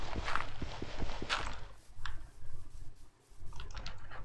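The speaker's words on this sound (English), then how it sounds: "Let me very quickly make a little hole to put the horse in." Horse hooves clip-clop in the Chaoskraft 2 game, a scattered run of soft thuds and clicks at close range, with no talk over them.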